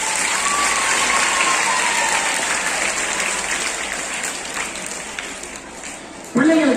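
Sustained applause from a school audience of students at a literary club inauguration, dense clapping filling the hall loudly and steadily, fading slightly near the end before a voice speaks.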